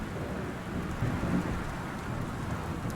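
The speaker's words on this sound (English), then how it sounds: "Ooh, thunder." Steady rain with low thunder rumbling in the game Gone Home, a broad, continuous wash of downpour with a brief louder swell of thunder near the middle, no voices.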